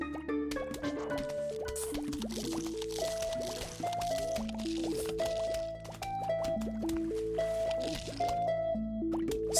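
A zombie splashes into the pool in Plants vs. Zombies, a soft wet plop and squish set among the game's plinking music and rhythmic effects, fairly quiet.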